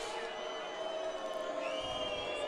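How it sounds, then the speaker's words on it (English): Stadium crowd at a men's flag football world championship gold medal game between the USA and Mexico, a sustained roar of many voices with whistles and shouts, steady and fairly distant. "The crowd does not like it."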